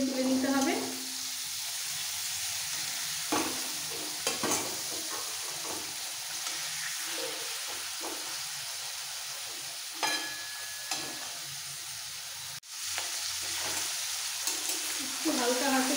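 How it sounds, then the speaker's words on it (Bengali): Salted paneer frying in a pan, a continuous close sizzle with intermittent scrapes and knocks of a spatula against the pan and faint background voice. "হালকা লাল করে পনির ভেজে তুলে নিতে হবে।"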